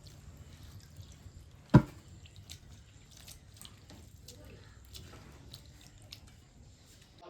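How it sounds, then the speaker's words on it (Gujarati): Thin potato peel slices are rinsed by hand in clean water. There is gentle sloshing and small splashes, with one sharp clunk near the start. "એને આપણે હવે ધોઈ કાઢીએ ચોખ્ખા પાણીએ"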